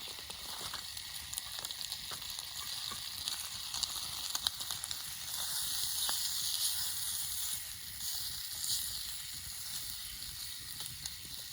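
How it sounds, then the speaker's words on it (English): Steady crackling sizzle of chicken and rice frying over a campfire, continuous hiss with scattered pops, fairly close, no voices. "Already sizzling."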